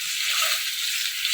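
Boiled eggs, cut up, fry in a pan with a loud, steady, close sizzle that fills the brief moment without any talking.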